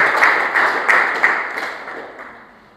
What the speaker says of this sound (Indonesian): Beri tepuk tangan yang terbaik buat Tuhan.